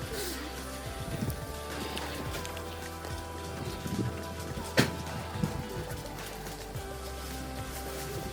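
Rain falls steadily in cold weather near Jiufen in Taiwan, a dense close patter on surfaces with scattered louder drips and taps, with no one talking.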